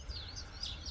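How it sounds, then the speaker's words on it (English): A bird near its nest in a garden gives faint, high whistled chirps in quick rising and falling sweeps, heard distantly over a low background hum. "which is the noisiest bird you will ever find in your life."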